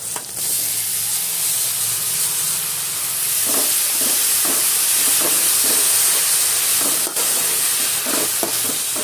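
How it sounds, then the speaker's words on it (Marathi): Washed dried sukat fish stirred into roasted masala for a chutney gives a loud, steady frying hiss close by, with repeated scraping and stirring clatters from about midway through. "मसाला भाजून तयार आहे, तर आता आपण ह्याच्यामध्ये धुतलेले सुकट घालणार आहोत"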